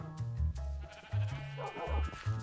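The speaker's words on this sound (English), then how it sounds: "he got a nice brown sheep in there" Sheep bleating in the Minecraft video game, several short wavering bleats in quick succession, fairly close and moderately loud, with faint background sound between them.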